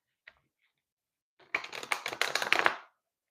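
Tarot cards riffle-shuffled close by in a single burst of about a second and a half of dense crackling flutter, preceded by a faint tap.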